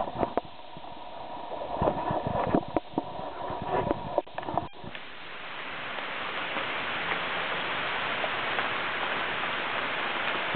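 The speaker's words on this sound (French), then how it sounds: "Le bruit là c'est la pluie." Steady rain falling outdoors beside an old disused mosque, a broad even hiss that swells and fills the scene after a few louder knocks and clatters early on, continuous and fairly close.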